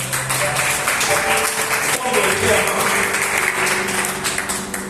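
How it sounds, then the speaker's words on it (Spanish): A church congregation claps in a steady, dense wash of applause, with a voice speaking over it. "Dale un aplauso a Rey de Reyes."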